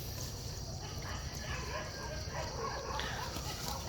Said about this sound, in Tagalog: Ang iingay ng mga aso sa labas.